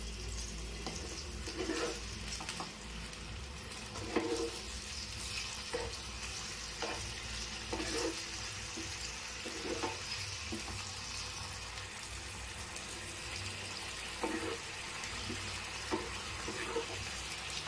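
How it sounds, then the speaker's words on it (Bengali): Marinated mutton frying in a pan on high heat makes a continuous soft sizzle, with intermittent stirring scrapes and knocks at irregular intervals, fairly faint and close. "একটুখানি ভেজে নিতে হবে আগে প্রথমে"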